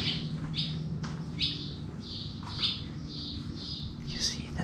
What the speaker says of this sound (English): You see the birds up there? They are nesting in the small basket.